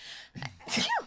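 A single close sneeze with a sharp intake of breath before it, short and fairly quiet, with no other sound around it.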